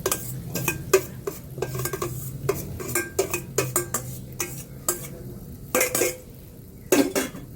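Boiled grated ube being mixed with sticky rice in a pot for ube biko: repeated scraping and clanking of a spoon against the pot, irregular stirring strokes close up, with a faint sizzle underneath.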